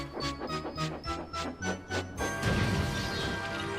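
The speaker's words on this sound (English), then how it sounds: "The house rocked, broken glass tinkled, plaster was everywhere." A toy engine slams into the station master's house at breakfast time, a sharp crash of breaking glass and debris erupting after a run of rhythmic chugging and clattering, then a dense, loud tinkling wash of shattering glass that lingers.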